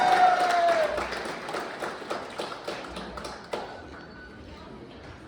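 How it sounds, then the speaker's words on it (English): Audience applause at an awards gala at Jericho Palace, loud clapping at first that thins into scattered, fading claps over several seconds. "Please give her another round of applause."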